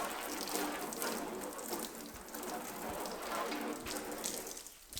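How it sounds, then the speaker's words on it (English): A steady hiss of water spraying from a nozzle onto a freshly painted and clear-coated Honda Civic panel, continuous and close, with no voices. "spray it with water"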